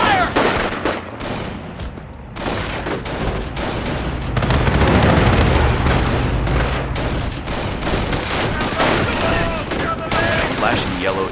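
Rifle squad gunfire in the Company of Heroes video game, a loud, dense fusillade of overlapping rifle shots and bursts with booming impacts that continues without a break. A voice speaks briefly near the start.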